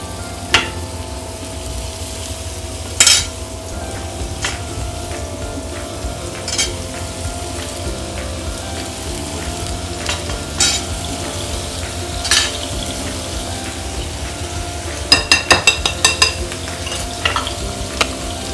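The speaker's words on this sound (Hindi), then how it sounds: "इसको तकरीबन शैलो फ्राई करना है, डीप फ्राई नहीं करना" Eggplant slices shallow-frying in oil, a steady low sizzle running throughout, punctuated by occasional sharp clicks and scrapes of a utensil against the pan.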